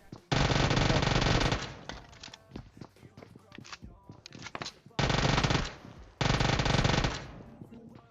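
An Uzi submachine gun fires in PUBG Mobile, loud sustained automatic bursts repeated three times with gaps of lighter in-game footsteps and clatter between them.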